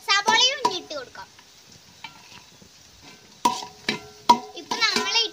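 Onion and ginger fry in a pan with a faint, steady sizzle and the occasional stir, while a child and an adult talk over it.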